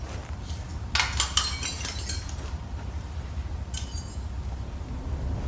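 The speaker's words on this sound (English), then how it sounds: "punctuated only by the occasional sound of shattering glass" Glass shattering in the video game Cyberpunk 2077, with one bright crash of breaking shards and a shorter, fainter tinkle a few seconds later over a low ambient hum.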